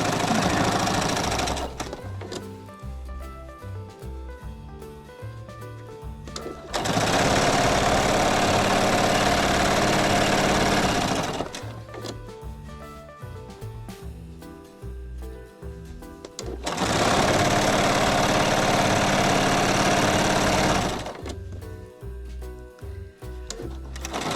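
Sewing machine stitching quilt binding in two long bursts of fast, steady whirring and clatter, separated by quieter pauses filled with intermittent mechanical clicks and handling.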